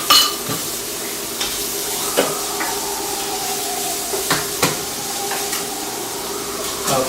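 Eggs and onions sautéing in a pan for a holiday brunch strata, a steady close sizzle broken by sharp clinks and scrapes of a utensil stirring against the pan, with no talking.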